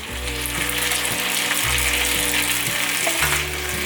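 Lotus root and snow peas stir-fried over medium heat in a vegan home kitchen, a loud continuous sizzle with repeated rhythmic scraping and tossing of the spatula against the pan.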